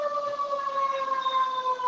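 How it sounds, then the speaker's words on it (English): An ambulance siren sounds loud and close as a sustained, steady wail, with no voices over it. "Did you not hear that? Ambulance was looking for you."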